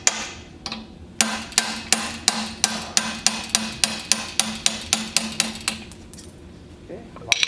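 A hammer strikes a roll pin to drive it out of a handle, a steady series of about twenty sharp metallic taps at an even rhythm, close and loud, with a few scattered knocks before and after.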